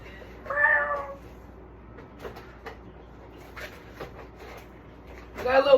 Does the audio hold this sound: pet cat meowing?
yes